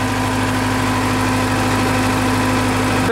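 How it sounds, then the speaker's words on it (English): A small diesel motor drives the hydraulic pump of a land drill rig in Key Largo, Florida, a loud, steady idle drone with an even mechanical hum and no breaks. "This is a little diesel motor that operates the hydraulic pump."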